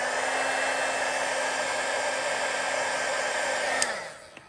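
A heat embossing tool blows a steady, loud whirring hiss over embossing powder on a vellum card, running continuously without talk before clicking off and quickly spinning down at the end.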